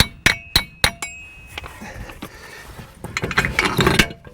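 Sharp metallic taps ring out on a 2014-2018 Chevy Silverado axle to separate the steering knuckle, with three or four spaced clangs followed by scraping and a burst of rattling metal work, close and loud.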